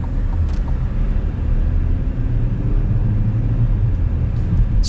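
Cabin sound of a 2025 Chevy Equinox with an 8-speed automatic on the move: a steady low road and engine rumble with soft tire noise, constant and even throughout, no voices.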